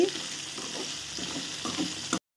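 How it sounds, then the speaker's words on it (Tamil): Okra (ladies finger) sautés in a pan under a steady sizzle, with spatula scrapes and stirring strokes rising at intervals, close up and without speech, then cutting off abruptly near the end. "இந்த வெண்டைக்காய் நல்லா வதங்கி வெந்துருச்சு"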